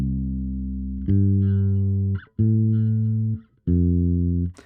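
Bass guitar playing a 1-5-6-4 line of four sustained, ringing notes, each held about a second with brief gaps, clean and close.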